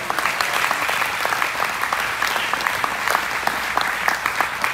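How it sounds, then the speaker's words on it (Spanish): Church congregation clapping hard and steadily, a dense, continuous round of applause with no voices above it. "Denle fuertes palmas al Señor."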